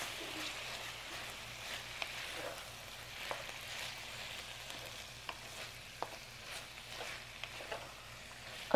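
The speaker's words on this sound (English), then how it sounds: "Now add in the fish sauce and stir the pork." Pork fries in a pan with fish sauce, giving a steady soft sizzle while it is stirred, with faint scraping taps scattered throughout, close and fairly quiet.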